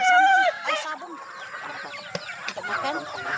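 Chickens cluck and squawk close by, several birds calling in short bursts, with a voice briefly audible among them.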